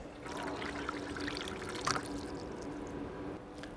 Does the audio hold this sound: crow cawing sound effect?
no